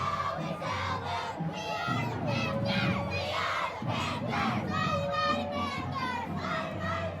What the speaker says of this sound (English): They are the Panthers, if you can hear that. That is a great cheer.